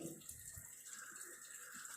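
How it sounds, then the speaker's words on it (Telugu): An LG 7 kg top-load washing machine draws water in during its rinse cycle, a faint, steady hiss of inflowing water running on evenly throughout. "17 మినిట్స్ దగ్గర రిన్స్ మోడ్లో వాటర్ మళ్ళీ తీసుకుంటుంది"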